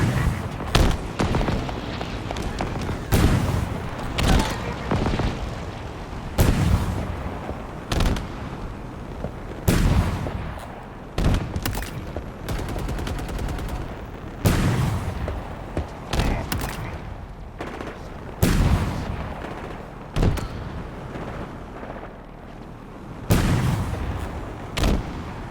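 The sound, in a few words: explosions and gunfire in the video game Halo Infinite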